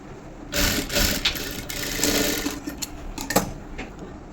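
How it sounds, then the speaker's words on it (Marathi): A sewing machine stitches a blouse in short, close bursts of rapid mechanical whirring that start and stop several times, with small handling clicks between runs. "आता मी काय करणार, याला अशी दाब स्टिच देणार."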